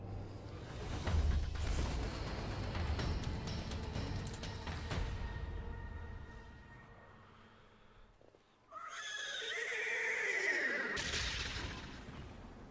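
A horse whinnies in Overwatch 2 amid a layered, humming background, with a second high, wavering neigh rising near the end.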